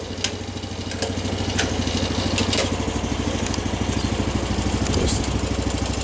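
A Forte hybrid walk-behind tractor with a Weima 18 hp petrol engine (192FE-S) runs steadily at idle, a close, even pulsing rumble with faint clatter throughout.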